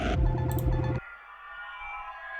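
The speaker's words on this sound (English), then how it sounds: "One of their creepy, like, sound effect-y kind of things. metal sort of scraping." A brief, dense metallic grinding burst from a synthesizer sound effect cuts off abruptly, leaving a lingering eerie ringing tone that hangs faintly afterward.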